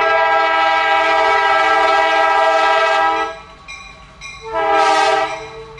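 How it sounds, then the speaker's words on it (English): A train passes with a loud, sustained horn blast for about three seconds, dropping off briefly before a second strong horn sounds, with faint rail rumble beneath and no talk. "let's see the train"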